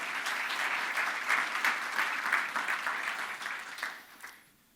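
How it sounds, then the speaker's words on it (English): A summit audience gives a dense round of applause that stays steady for about four seconds, then thins and fades into quiet. "give them a round of applause for all the moms in this audience and outside"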